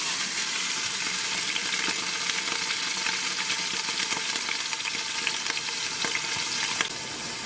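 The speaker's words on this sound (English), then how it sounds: "we're just going to sit there and lightly brown all of the beef." Ground beef browns in an Instant Pot, giving a dense, even crackling sizzle that holds steady and loud for the whole stretch, close up, with faint clicks of the spoon and no talking.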